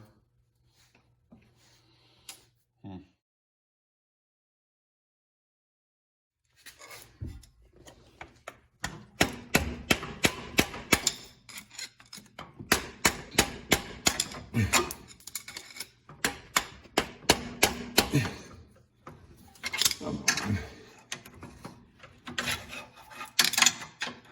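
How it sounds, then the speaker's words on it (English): Repeated sharp metallic hammer strikes on a car axle land in irregular bursts after a quiet start, fairly faint and close, continuing steadily for much of the stretch. "hit it with a hammer"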